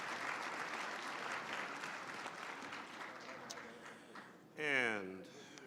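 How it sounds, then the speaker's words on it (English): Audience applauding award winners at a ceremony, a steady wash of clapping hands from a crowd that goes on for several seconds, with a short burst of voice near the end. "Let's give all of our award winners one more big round of applause."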